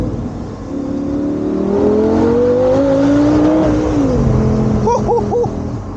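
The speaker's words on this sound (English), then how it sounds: "the roof is down and the engine sings" Audi R8 GT Spyder engine heard from inside with the roof down, a loud rising and falling engine note climbing through the revs, then brief quick blips near the end.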